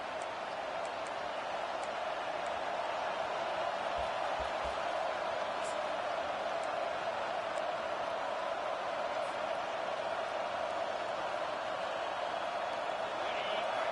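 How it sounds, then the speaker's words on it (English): Steady stadium crowd roar during College Football 25 gameplay on a third-down defensive stand, a dense continuous wash of cheering that holds at an even, loud level throughout with no break. "Decibels rising as the crowd gets behind this defense on third down"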